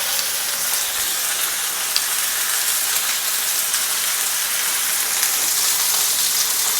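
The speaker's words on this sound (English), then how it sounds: "We've got about 2 tablespoons of avocado oil in here, and we're just gonna put our chuck roast in the pan." A chuck roast sears in avocado oil in a hot pan, a loud, steady, dense sizzle with crackling spatter that holds without a break and no voices.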